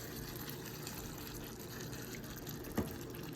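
Water poured from a container into a cooking pan while making coconut curry, a steady soft gushing stream throughout with one brief clink near the end, no talking.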